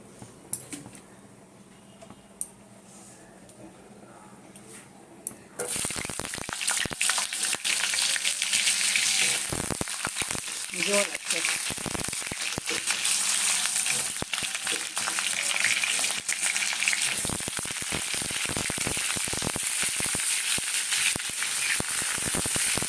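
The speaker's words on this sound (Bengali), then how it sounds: "এবারে আমি আলু আর গাজরটাকে একটু ভেজে নেবো" Potato and carrot pieces hit hot oil in a pan for a vegetable khichuri with Gobindobhog rice. After about five quiet seconds with a few faint clinks, a loud, continuous sizzle takes over, broken by bursts of crackling and stirring.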